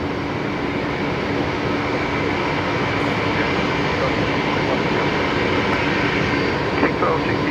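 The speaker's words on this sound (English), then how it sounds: "Maybe it was one of the Qantas Link A220s." A QantasLink Airbus A220 at Brisbane Airport, its engine making a loud, steady broadband roar with a constant hum, unbroken and close for the whole stretch.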